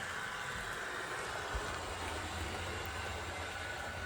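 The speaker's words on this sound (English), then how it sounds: "these AHM locomotives all kind of sound similar and run similar, but they're quick runners" An AHM HO scale model Pennsylvania locomotive runs along its track, a faint, steady mechanical whir with a low hum, heard alone and evenly throughout.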